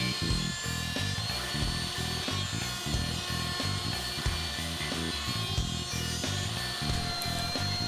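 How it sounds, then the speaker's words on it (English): Router bit cutting into a wooden workpiece for a bowl or tray, a loud high-pitched spinning whine with rough, choppy bursts of cutting noise repeating throughout, with no talking. "I pivot the workpiece off this pin to avoid catching the router bit"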